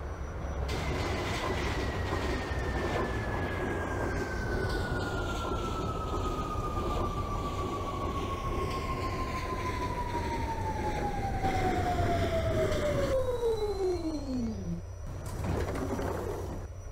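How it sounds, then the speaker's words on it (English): An R46 C local subway train in a video game runs with a constant rumble while a long falling whine glides downward for over ten seconds, then cuts off as the train slows. "This is a World Trade Center bound C local train."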